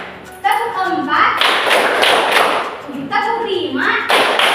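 A classroom of children clapping a counted rhythm pattern led by a teacher, bursts of claps in quick groups with a voice and talk mixed in, loud and close.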